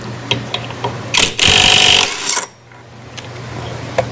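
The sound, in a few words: Makita impact wrench removing Honda Click pulley nut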